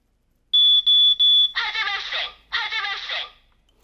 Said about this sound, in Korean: 이렇게 육성과 함께 큰 경보음이 울립니다.